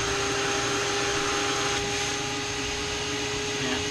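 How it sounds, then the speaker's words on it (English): Shop vacuum powering a homemade MPCNC vacuum table, running steadily as a loud, continuous whine with two sustained tones and broadband hiss, no breaks across the whole stretch. "Okay, vacuum on."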